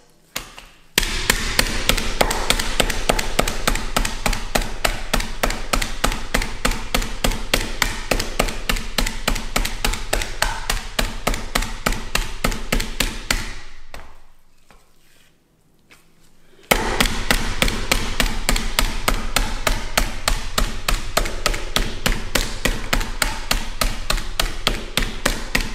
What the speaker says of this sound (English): I've pounded most of them all out.